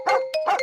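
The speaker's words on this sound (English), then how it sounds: "Dog." A dog barks twice in quick succession, two close, fairly loud woofs with a brief gap between them.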